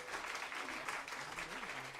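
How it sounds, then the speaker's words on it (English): An audience at a jazz band performance gives soft, continuous applause, faint and somewhat distant, with a voice speaking low underneath. "how about a round of applause for Jade Purdue?"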